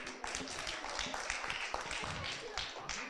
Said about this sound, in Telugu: వాళ్ళందరికీ ఒక క్లాప్ ఇద్దామా పిల్లలు?